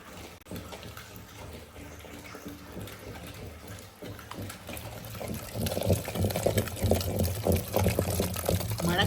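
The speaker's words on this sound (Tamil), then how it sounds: "அந்த கீரையும் எடுத்து அதை கொட்டி கடைஞ்சிட வேண்டியது தான்." Cooked spinach greens being mashed in a pot, a soft wet churning and sloshing that grows louder and busier in the second half, with no talk over it.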